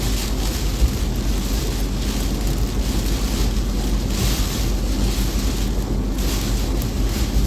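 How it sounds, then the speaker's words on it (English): Hurricane Idalia's strong wind, gusting to 60 mph near Valdosta, Georgia, roars and buffets the microphone in a steady, loud rush with no let-up and no voices. "I'm still getting 60-mile-per-hour wind gusts right now."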